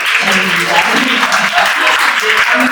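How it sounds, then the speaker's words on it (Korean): A talk-show audience breaks into dense, steady applause, a close and loud wash of many hands clapping with voices mixed in throughout. "박수! 우성님께 박수!"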